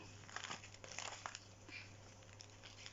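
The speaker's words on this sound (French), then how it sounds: "je vais essayer de ne pas craquer le sachet" A plastic sachet holding beaded embroidery crinkles and crackles in short irregular bursts as it is handled and opened, close and fairly quiet over a steady low hum.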